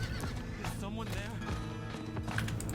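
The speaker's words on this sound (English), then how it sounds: "Let's get on the horsey." A horse mount in Diablo 4 whinnies and clip-clops along in game audio, heard under a voice talking over it.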